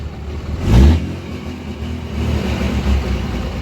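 A 2018 Cummins diesel truck engine in need of new injectors, revved once with a quick throttle blip that rises loud and low, then settles back to a rough steady idle.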